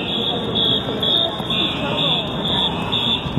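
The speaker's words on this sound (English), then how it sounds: "the fire alarm is on, and we see fire trucks coming" An outdoor fire alarm at Pentagon Row sounds as a continuous shrill electronic tone that pulses slightly while fire trucks arrive, with people talking close by under and over it.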